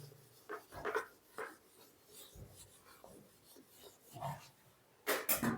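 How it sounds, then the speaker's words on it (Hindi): Rubbing and scraping bursts as writing is erased from a board in a classroom, with irregular strokes of varying loudness and quiet gaps between them. "इसको मिटाते हैं।"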